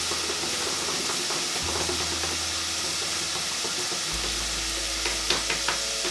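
Butternut squash stirred in a pan, with a continuous soft sizzle and hiss plus a low steady hum, and a few light scraping taps of the utensil toward the end.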